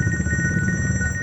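A telephone ringtone rings in repeated, steady electronic pulses, fairly loud and close, with no talking.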